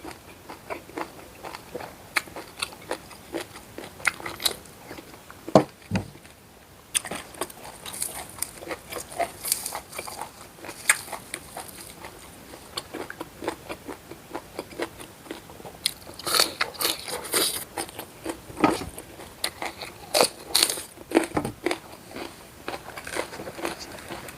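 Close, crisp crunching and wet chewing of a spicy Thai beef tendon salad eaten with fresh vegetables, in irregular bites that repeat steadily for over twenty seconds without talk.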